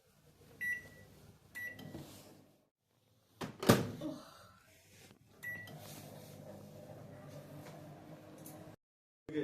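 A Samsung microwave oven with weak heating is opened and shut with thuds and clicks, then started, bringing a low running hum and a few beeps, close and fairly quiet.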